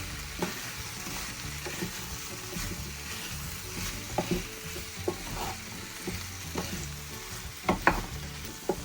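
Mixed vegetables stirred in a pan over a low flame, a steady soft sizzle with scraping spoon strokes at irregular intervals, a few sharper clatters near the end, no talking.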